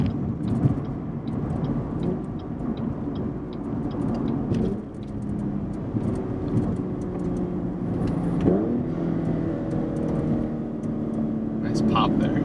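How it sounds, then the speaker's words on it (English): Cadillac CTS-V fitted with a Corsa axle-back exhaust rumbles steadily from inside the cabin during a manual downshift on a highway exit, engine tone shifting and rising midway, with a steady road roar beneath. "I'm going to manually downshift on this exit"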